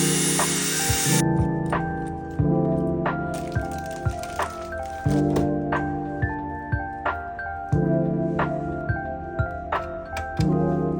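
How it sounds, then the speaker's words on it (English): A Dremel rotary tool removes a stripped screw from a MacBook during a screen repair. A high whine comes in repeated short bursts, starting and stopping several times, close up and moderately quiet. "The second MacBook has a strip screw, which I have to use a Dremel to remove."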